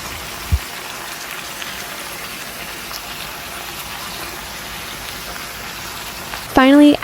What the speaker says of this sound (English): Once the sauce is combined, return all the vegetables and meat to the pan. Toss everything for about 30 seconds to coat it in that savory sauce.